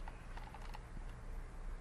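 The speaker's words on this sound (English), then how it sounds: "typing in W block." Keys on a computer keyboard clatter in a short quick burst as a CAD command is typed, soft and close with no voices.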